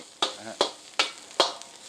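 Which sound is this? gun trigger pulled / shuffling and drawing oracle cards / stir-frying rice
stir-frying rice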